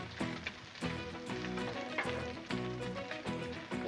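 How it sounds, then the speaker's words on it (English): Strips of bacon sizzle and crackle on a hot Blackstone flat-top griddle, a steady dense hiss with scattered pops and the occasional scrape of a spatula, heard up close with no talking. "slice some of this bacon over, because it will kind of continue to cook over here"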